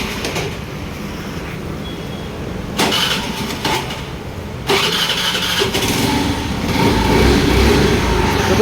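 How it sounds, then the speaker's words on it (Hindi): A Honda Activa 125 scooter with a gearbox noise problem cranks and starts, then idles at close range with a steady engine hum that grows a little louder by the end. "जैसे इसके अंदर चाबी ऑन करते हैं और इसको स्टार्ट करते हैं"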